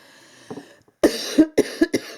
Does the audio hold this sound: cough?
yes